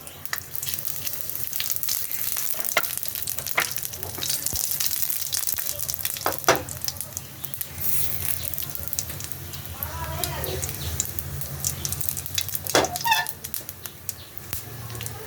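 Dried chili, a bay leaf and radhuni seeds sizzle and crackle in about two spoons of hot oil in a home kitchen, with steady frying hiss, scattered sharp pops and occasional stirring clatter close by.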